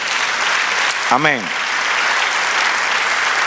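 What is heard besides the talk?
congregation applauding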